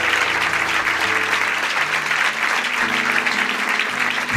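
A church congregation applauds together, a dense, steady wall of clapping that fills the space without break, with no talk over it.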